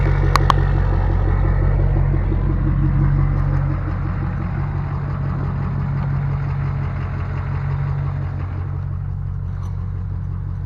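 A Ford 6.7 Powerstroke diesel pickup engine idles close by, a steady low rumble with a faint rhythmic knock that eases slightly partway through and holds evenly to the end.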